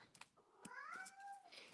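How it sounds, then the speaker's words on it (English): A pet cat indoors gives a drawn-out, wavering meow, faint and in the background, with a few small clicks and knocks around it. "You hear my cat meowing in the background?"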